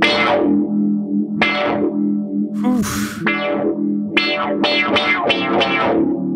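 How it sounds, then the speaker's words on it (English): Electric guitar notes and chords played through an Electra MPC Outlaw with envelope filter and phaser effects, swirling and sweeping, each strike followed by a filtered wah-like sweep, loud and close. "Hit me the envelope filter and the phaser"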